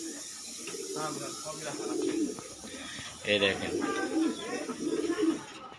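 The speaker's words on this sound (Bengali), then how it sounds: "এই যে চালতা গাছে দেখেন বসে আছে কবুতর, অসংখ্য কবুতর" Many pigeons perched in a chalta (elephant apple) tree coo in soft, repeated low phrases, with a person talking close by over them.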